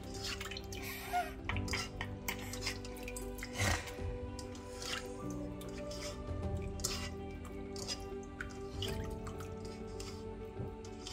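Water splashes and drips in a container as grasshoppers are washed, with soft pouring and sloshing, faint and close, irregular bursts of liquid movement.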